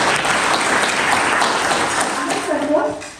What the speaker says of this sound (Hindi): जोरदार तालियां हैं